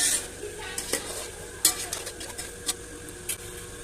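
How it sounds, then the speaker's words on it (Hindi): A spoon stirs and mixes spices in a pot for fried chicken liver. Light metallic clinks and taps sound at an irregular pace over a soft, steady background. "तमाम मसालों को हम अच्छे तरीके से मिक्स कर देंगे।"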